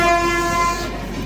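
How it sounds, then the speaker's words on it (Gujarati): A train at Bharuch Junction railway station, arriving from the Baroda side, sounds a loud, sustained horn blast over a low rumble that fades slightly toward the end. "એક જો બરોડા બાજુ ટ્રેન આવી ગઈ છે."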